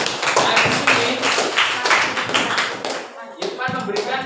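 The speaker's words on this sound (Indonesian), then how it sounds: "beri tepuk tangan untuk Irfan" Classroom audience clapping for a student after a presentation on flood prevention, a steady burst of many hands that fades, then speech resumes near the end.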